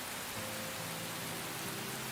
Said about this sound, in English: Jay runs through the heavy rain toward the main gate.